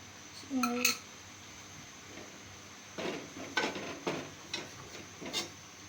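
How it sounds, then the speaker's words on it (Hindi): Gram flour roasting in a pot with cardamom for a halwa, stirred with a spoon that gives soft dry scrapes and occasional metallic clinks, fairly quiet and intermittent. "अब बेसन हमारा भुन रहा है"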